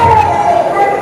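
A voice briefly imitates a siren, holding a loud, close, slightly wavering high tone for about a second.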